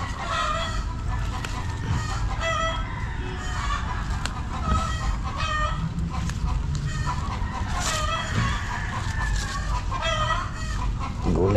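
Labuyo junglefowl chickens clucking and crowing nearby, repeated calls layered over one another with steady outdoor background, no talking.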